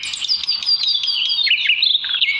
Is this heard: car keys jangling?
no